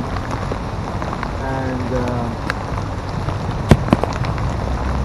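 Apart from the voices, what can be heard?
heavy rain pouring down in London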